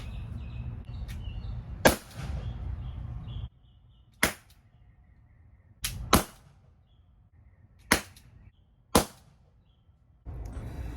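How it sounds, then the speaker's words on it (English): Five sharp gunshot cracks from a rifle firing blanks with an HDR 50 silencer, irregularly spaced, each with a short decay, separated by quiet gaps with a low background rumble. "I will be shooting blanks."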